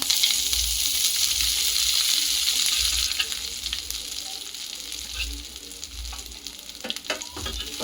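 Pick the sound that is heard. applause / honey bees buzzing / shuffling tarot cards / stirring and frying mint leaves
stirring and frying mint leaves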